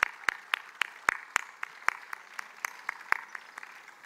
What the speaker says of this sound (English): Another huge round of applause to these kids